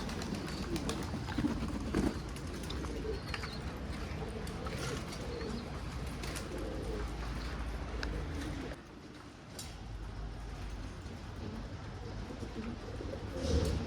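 Pigeons coo softly in a large coop as dusk falls, several birds overlapping in a low, continuous murmur with occasional chirps and brief quieter moments.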